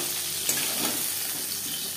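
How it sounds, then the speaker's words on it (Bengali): Fish pieces fry lightly in oil for a fish curry, making a short, steady, close sizzle with a faint pop near the start. "মাছ আমি হালকা করে ভেজে নিলাম।"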